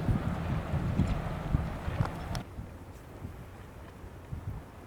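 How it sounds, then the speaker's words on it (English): Gusty wind buffets the microphone over open water in the San Juan Islands, with rough low rumbling bursts in the first half easing to a softer, steady rush. "This is unheard of, this amount of wind in here."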